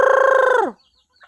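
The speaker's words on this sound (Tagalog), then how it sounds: "Daghan na mig manok guys." A rooster crows once, a loud, clear, sustained call that falls off sharply at the end, followed by near silence with a faint chicken sound at the close.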